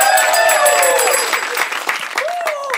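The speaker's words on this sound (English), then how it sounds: "Please, big round of applause for Sasha and Michael." An audience applauds Sasha and Michael at a live show, with dense, steady clapping and loud voices and cheers riding over it throughout.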